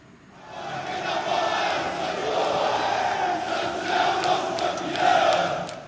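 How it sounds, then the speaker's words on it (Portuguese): Santos supporters chant and sing together at a night vigil for Pelé, a dense crowd roar with steady, swelling voices and occasional sharp flag or drum hits standing out. "A torcida jovem do Santos cantou e agitou bandeiras em agradecimento pela herança de uma camisa."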